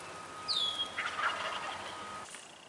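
Three young male wild turkeys and a mature tom gobble from the far side of a pond, a clear rattling gobble followed by softer overlapping calls that sound distant across open water, and nobody speaks.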